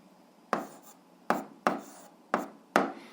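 Pen writing down an answer on paper, five short separate scratchy strokes at irregular intervals, close and fairly quiet, no talking.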